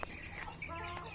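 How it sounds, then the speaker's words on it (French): Silkie hens on a farm cluck softly in short, overlapping calls, close by and moderately faint over low background noise. "voilà l'autre poule soie silky"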